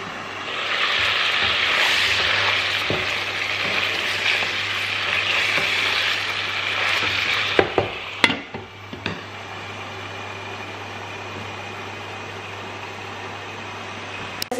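Balti gosht meat cooking under a lid on medium heat, giving a steady, fairly loud sizzle that drops to a quieter simmer after a few clicks and clatters partway through.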